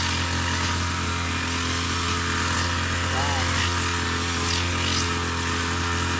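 A motorized grass cutter trims overgrown grass beside a house, a steady high-revving engine whine that holds nearly constant throughout, loud and close.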